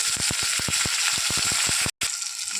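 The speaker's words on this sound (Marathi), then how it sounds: "आता त्यात मी टोमॅटो ॲड करते. यालाही परतवून घेऊया." Chopped tomatoes sautéing in a pan along with finely chopped green chillies, a steady close sizzle with a rhythmic series of stirring scrapes.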